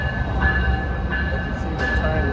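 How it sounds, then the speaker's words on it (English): A passenger train riding along on a holiday trip to visit family, giving a steady low rumble and rolling noise throughout with no voices present. "As you see, the train is filling up."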